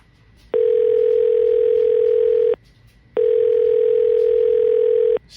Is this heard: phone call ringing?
yes